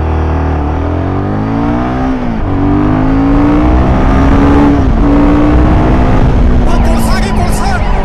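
A Royal Enfield Himalayan 450 motorcycle accelerates hard from a standstill toward 100 in first gear and up, its engine note climbing steeply with several drops at gear shifts, very loud and close over strong wind rush, with a voice briefly audible.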